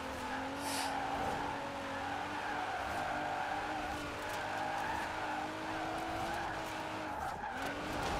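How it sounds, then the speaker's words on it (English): A Nissan GTR engine sits on its rev limiter in Forza Horizon 4. A steady, droning engine tone holds with slight wavering and tire-squeal texture, moderately quiet and continuous, without talk. "the GTR on rev limiter sounds equally as bad"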